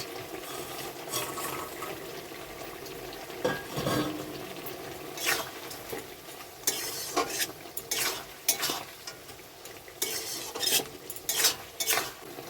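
Puti fish are stirred into a boiling potato curry in a pan, with bubbling, sizzling liquid and a few scrapes and clinks of a spoon against the metal, steady and close.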